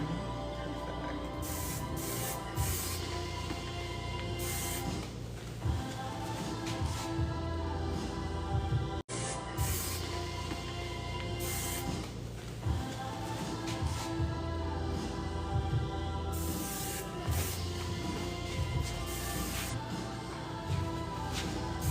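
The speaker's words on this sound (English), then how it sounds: "I'm just putting a light hairspray." Light flexible-hold hairspray misted onto styled hair during a salon blowout, a steady close hiss running through the whole stretch with a brief break midway.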